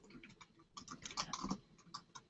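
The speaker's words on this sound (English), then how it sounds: "I hear you typing." Quick, irregular clicks of typing on a computer keyboard, fairly faint and close, coming in short uneven bursts with brief pauses.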